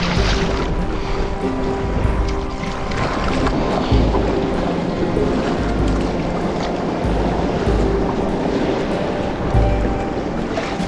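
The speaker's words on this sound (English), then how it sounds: "some playful reflected waves as they rebound against the wall" Sea waves reflecting and rebounding off a pier wall on a November sea kayak trip along the Tynemouth coast, heard as continuous choppy sloshing and slapping water with occasional louder splashes, close by, with wind noise and no talking.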